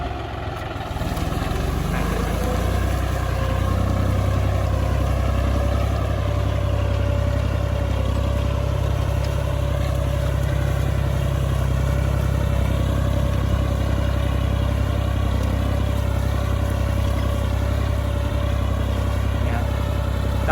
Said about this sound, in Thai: รถไถจอนเดียนะครับ รุ่น40แรงนะครับ